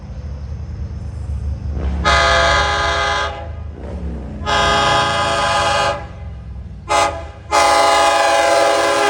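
A Long Island Rail Road diesel train on the Montauk Branch passes close by under a heavy engine rumble, sounding several loud, sustained horn blasts of varying length, the last one cut short before a final long blast.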